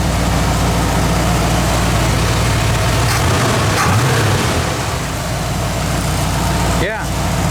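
A junkyard truck engine idles in a low, steady drone, running continuously throughout with a brief shift near the end.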